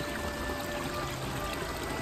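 A river in the Kundasang spring garden area flows steadily nearby, a continuous broadband rush and trickle of water with no voices over it.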